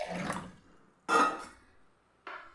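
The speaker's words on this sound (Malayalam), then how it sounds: "മിക്സിയുടെ ജാറിലേക്ക് നമുക്ക് വെള്ളം ഒഴിച്ചു കൊടുക്കാം" Water poured into a mixer grinder jar in a home kitchen, heard as short splashing bursts with brief pauses between pours, fairly close and clear.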